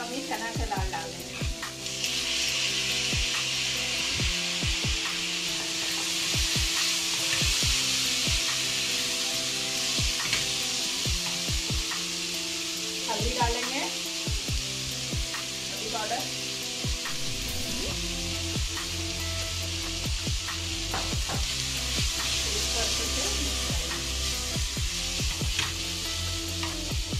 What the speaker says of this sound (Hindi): ये फ्राई हो चुका है प्याज टमाटर, अब ये चना का दाल डाल देंगे।